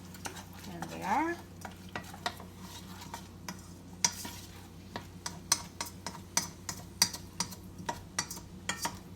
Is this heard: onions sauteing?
yes